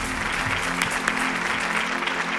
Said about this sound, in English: Please, a big round of applause to our panelists.